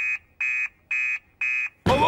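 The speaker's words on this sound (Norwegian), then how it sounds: "Alarmen går!" A fire station alarm in a Fireman Sam cartoon blares loudly in four even, evenly spaced electronic buzzing pulses, then a burst of noisier sound cuts in at the end.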